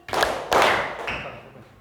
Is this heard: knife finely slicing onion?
no